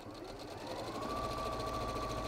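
A sewing machine stitches fabric for a cat softie in a steady, fast mechanical whirr with a rapid rhythmic needle patter, close and fairly quiet, with no talk.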